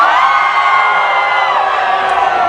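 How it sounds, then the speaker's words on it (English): Crowd cheering at Leeds Pride, a loud sustained mass of whoops and shouting voices holding steady for a few seconds, close and dense. "Let's do your campus cheer."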